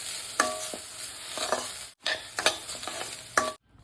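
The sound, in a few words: dry roasting laddu mixture in a pan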